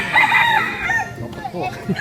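Bantam roosters crow at a Thai cockfight, several loud calls rising and falling close by over about two seconds, with crowd voices and shouting underneath.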